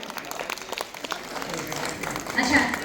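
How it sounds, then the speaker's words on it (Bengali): An audience at a West Bengal jatra folk-theatre event applauds, a scattered patter of clapping that builds toward the end, heard under a speaker talking over a loudspeaker. "তো আরেকটু জোরে হাততালি হবে।"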